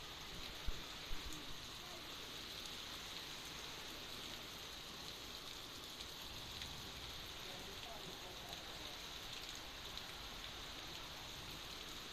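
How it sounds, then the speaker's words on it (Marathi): Heavy rain falls steadily and evenly at close range, a dense continuous hiss that holds for the whole stretch, with a brief voice near the start. "तर पाहिलं तुम्ही किती जोराचा पाऊस जो येतो इथे सुरू झालेला आहे"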